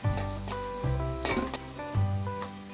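Whole spices and onions fry in a pan for a chicken curry with coriander and mint, giving a steady close sizzle broken by stirring scrapes and metal utensil clinks against the pan.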